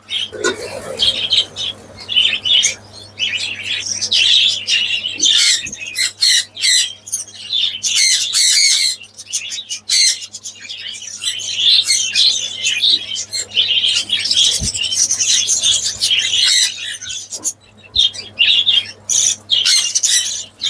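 A flock of about thirty budgerigars gathers around a small food dish in summer, their dense, continuous squawks and chirps close by and loud, with occasional wing flaps throughout.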